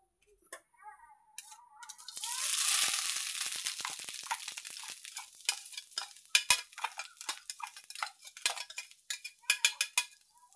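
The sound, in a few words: grated coconut being stirred and roasted in ghee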